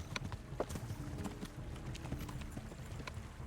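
Galloping horse hooves in the medieval game Kingdom Come Deliverance, a steady run of dull, close clip-clop beats over a busy low rumble, continuing without pause.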